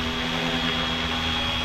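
A Flywing FW450L V3 RC helicopter in flight makes a steady, continuous whine and whir from its rotor and motor, fairly close and even in loudness, with no talking.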